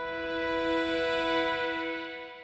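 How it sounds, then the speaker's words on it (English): A synth ambient pad from the Oscillate plugin's fifth preset holds one soft, sustained chord, rich in smooth harmonics, swelling gently and then easing off over a couple of seconds. "This is the second sound we're using, Oscillate, fifth preset,"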